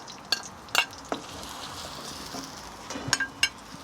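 Garlic and spring onions frying in hot oil for chicken 65, with a soft steady sizzle under a few sharp metallic clinks and scrapes of a spoon stirring in the pan.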